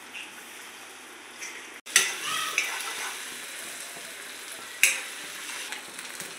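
Eggs cracked into a pan of fried onion pieces hit the hot oil with a sudden loud sizzle, then a steady close hiss with clicks of a spoon stirring and a second sharp burst later, no voices.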